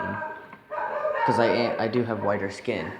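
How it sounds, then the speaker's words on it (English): A pet dog barking and yipping in a home, several sharp barks mixed with whimpering, loud and close, partly under a person speaking. "I don't know if you can hear my dog in the background"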